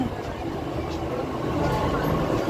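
Delhi Metro Yellow Line train passing at Kashmiri Gate station, a steady loud rumble and rush of the moving train, with a voice faintly under it.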